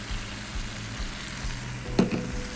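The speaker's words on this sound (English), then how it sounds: "And just stir that together." Sauce of sun-dried tomato with a pinch of kosher salt and cut basil being stirred in a pan, a low steady sizzle with a brief louder scrape of the spoon near the end.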